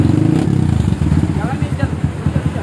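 A Kawasaki W175 motorcycle with a loud, throaty aftermarket racing exhaust rumbles close by, pulsing rhythmically as it rides along, with a voice heard over it.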